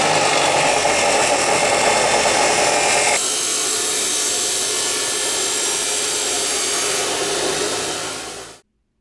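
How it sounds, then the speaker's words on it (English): Power tool cutting through metal parts for heavy-duty shelving, a loud continuous whining grind that shifts in tone partway through, then stops abruptly near the end. "Just like that, all of our parts are cut."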